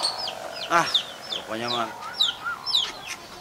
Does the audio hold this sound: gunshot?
no